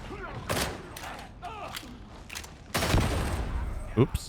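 An explosion in the video game Warhammer 40K Darktide bursts out after scattered gunfire-like thumps, loud and sustained, then a sharp impact near the end, with a player speaking briefly over it.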